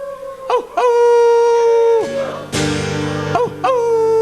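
A voice imitates dogs baying at the moon with a series of rising and falling howls, loud and close, sliding up and down in long wavering notes with short breaks between them.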